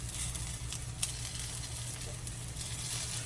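Sausage sizzles steadily in a pan on high heat, a soft continuous hiss with occasional small pops and no talking.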